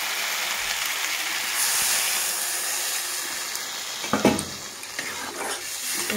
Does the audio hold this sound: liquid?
yes